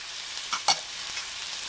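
Vegan fajita vegetables with cumin, chili powder and paprika seasoning sizzle steadily in a pan, with one or two quick scraping stirs of a utensil near the middle.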